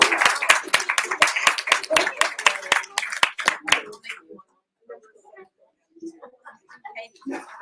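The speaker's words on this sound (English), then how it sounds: "everybody give them a round of applause" At a flower arrangement event, a small group claps in sharp, distinct hand claps for about four seconds, then the clapping stops and people begin talking.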